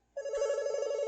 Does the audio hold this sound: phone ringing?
yes